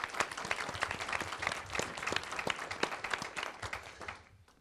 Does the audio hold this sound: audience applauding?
yes